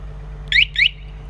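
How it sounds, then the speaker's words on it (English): A 2007 Yamaha R1 motorcycle alarm gives two short, sharp electronic chirps in quick succession over a low steady hum, close and clear. "We got the alarm"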